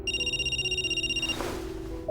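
A telephone rings as a sound effect in a Hindi horror podcast, a steady electronic trill repeating for over a second before cutting off, followed by a brief low rumble.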